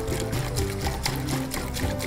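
Acetone spilling and pouring from a jar onto a table, a steady continuous liquid trickle and splash heard close up for about two seconds, with no talking.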